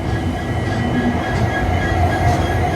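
Garib Rath Express train with its locomotive at Yeshwanthpur station, a loud, close rumble of rolling railway cars with faint wheel squeal, steady throughout with no voices.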